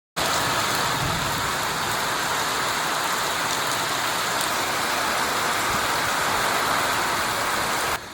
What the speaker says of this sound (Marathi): पाऊस हा पडत आहे.